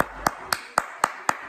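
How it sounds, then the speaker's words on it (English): Six sharp, evenly spaced hand claps at a house, close and crisp, each a single isolated clap with quiet gaps between, as if someone alone is clapping slowly. "Let's give him a round of applause."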